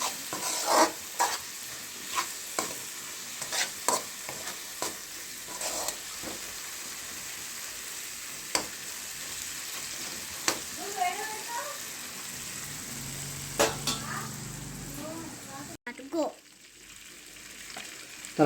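Tomatoes frying in a pan for homemade pasta sauce are stirred with a spoon, making steady sizzling with repeated close scraping clicks against the pan, some quick runs of taps, and a brief pause near the end.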